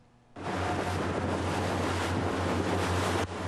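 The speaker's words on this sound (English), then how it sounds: "The waves are too high and too strong" Strong ocean waves surge with gusting wind on Barkley Sound, a steady roaring wash heard from a boat and buffeting the microphone, loud and continuous for about three seconds before easing slightly.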